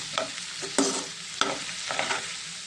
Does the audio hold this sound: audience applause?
no